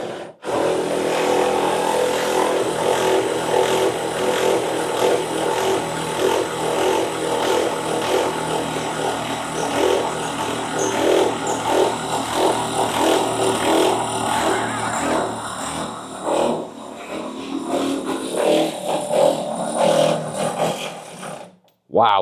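A battery-powered power tool whirs and rattles continuously, close and loud, working at a stubborn bolt on an MG Midget during restoration, with voices talking over it before it winds down near the end.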